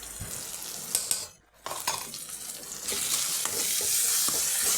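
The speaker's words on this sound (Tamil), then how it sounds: "வத்தல் பொடி போட்டு லைட்டாக கிண்டி விட்டுக்கிட்டு" Chili powder frying in hot oil for egg curry, stirred with a spoon: close scraping clinks and a brief pause, then a bright, rising sizzle that holds steady and loud to the end.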